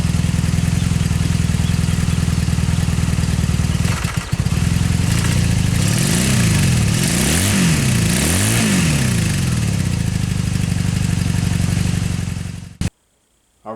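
A 2002 Honda Magna motorcycle engine runs loudly and close by, holding a steady rumbling idle. It surges through a few uneven, hesitant throttle blips partway through before cutting off abruptly near the end.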